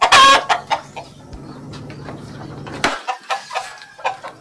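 Several native chickens clucking close by, a loud burst at the start followed by scattered short clucks outdoors.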